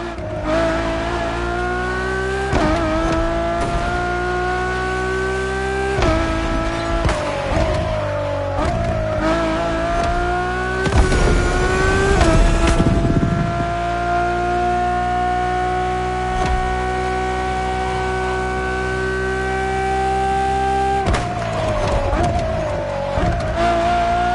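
A Ferrari road-legal Formula One car in The Motor Fest game drives with a loud, continuous high-pitched engine whine that rises and falls through gear shifts, with a short burst of tire noise midway.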